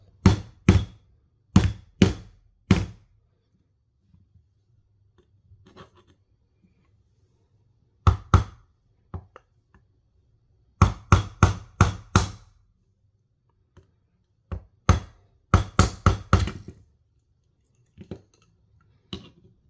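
A hammer whacks a punch and a flathead screwdriver in loud, close metallic blows, arriving in uneven bursts of several rapid strikes with quiet gaps between them.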